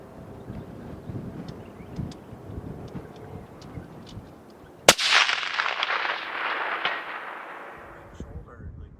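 A Blaser Tactical 2 sniper rifle fires a single loud, sharp shot outdoors at a 500-yard target. A long rolling echo follows and fades over several seconds, after a stretch of steady wind noise.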